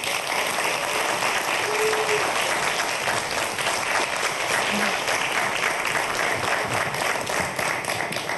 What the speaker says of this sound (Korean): 박수로 맞이해볼까요?